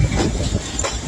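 Passenger train rolls along the rails with a dense rumbling rattle and faint rhythmic clicks, steady and close throughout.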